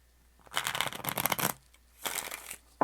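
Tarot cards are riffle-shuffled in two quick bursts of crisp fluttering, followed by a short snap, close by and with no voices.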